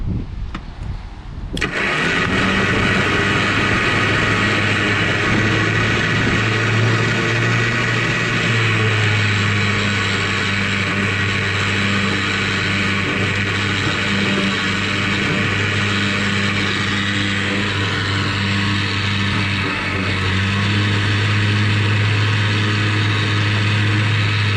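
A Duramax diesel truck engine cranks and catches, then settles into a loud, steady rumbling idle with slight rises in pitch, recorded close by with no voices.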